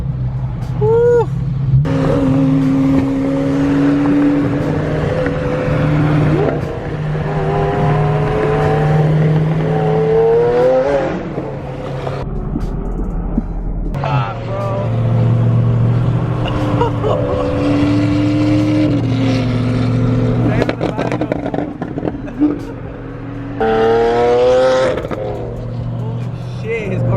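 A straight-piped BMW M3 with broken exhaust valves revving loudly at a car meet, rising and falling engine howls in several bursts, close by, with people talking and cheering over it.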